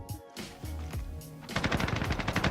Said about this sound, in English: So I hear the gunfight begin